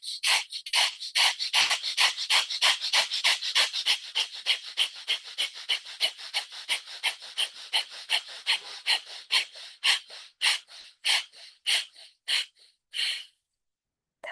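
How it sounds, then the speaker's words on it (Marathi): Rapid forceful breaths through the left nostril during a pranayama exercise, a long run of quick regular sniffing bursts, close and clear, that slow and space out toward the end before stopping. "उजव्या हाताच्या अंगठीने उजवी नाकपुडी बंद, डाव्या नाकपुडीने जलद श्वास घ्या,"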